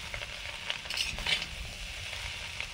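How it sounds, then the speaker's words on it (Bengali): Chow mein fries in a kadai (wok), a steady close sizzle with a few brief scraping stirs of the noodles, quiet and without talk. "একেবারেই এতগুলো চাউমিন ভাজা হয়ে গেল, কড়াতে বলেই কিন্তু সম্ভব।"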